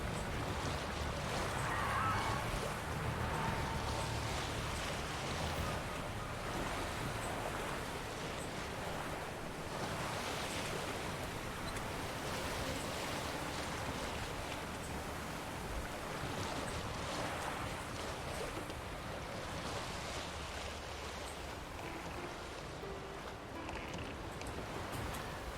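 Boat sailing across open water in The Witcher 3, with steady surf, wash and wind rushing throughout, a continuous even roar with no talk.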